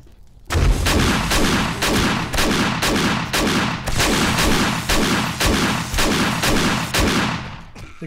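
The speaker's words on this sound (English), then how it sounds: "I'm gonna see if I can kill her with a shotgun." Repeated shotgun blasts from a first-person zombie survival game, 7 Days to Die, firing about a dozen loud, evenly spaced booming shots over several seconds with no talking.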